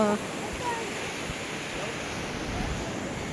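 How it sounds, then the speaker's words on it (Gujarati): Evening sea waves wash onto Alang beach as a soft, steady roar of surf, faint and continuous with no distinct breaks. "અમે અલંગનું દરિયાનું વાતાવરણ તો જોઈ લો એટલું મસ્તનું છે સાંજનો"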